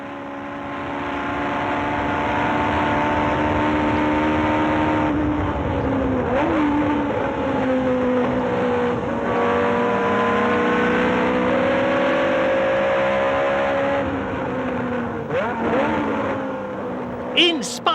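A Ferrari Formula 1 race car from around 1992 screams loudly from close range as it accelerates, its high engine note rising and falling through several gear changes over a sustained run.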